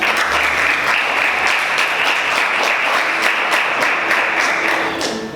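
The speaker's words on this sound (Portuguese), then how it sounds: "Vamos aplaudir o Senhor." Congregation applauding in a church service, steady dense clapping that fills the space for the whole stretch and stays loud until it begins to fade at the very end.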